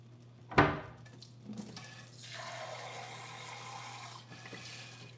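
A brief clunk, then water pours steadily into a pot for a few seconds, close by, with a low hum underneath.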